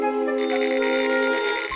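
A cartoon telephone bell rings in one continuous, bright, loud electric trill, close and alone, cutting off abruptly at the end.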